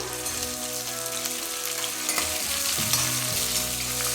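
Cumin, mustard seeds and onions frying in hot oil in a Rayalaseema home kitchen, a loud, close, continuous sizzle and crackle with occasional stirring, no voices heard.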